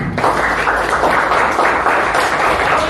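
Classroom of students applauding together after group work, a steady dense clapping that fills the whole stretch at close range, with no voices standing out.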